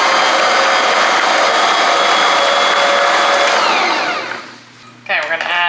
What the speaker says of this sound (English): I'm going to go ahead and just put it in my stand mixer here